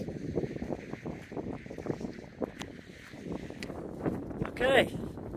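Wind gusts buffet a coastal hiking trail on California's Lost Coast, a low rumbling roar on the microphone, while a person talks and moves nearby.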